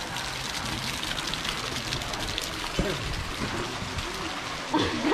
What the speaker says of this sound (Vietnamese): bà vẫn đứng vẫn thấm mưa